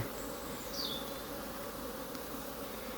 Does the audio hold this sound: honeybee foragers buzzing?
yes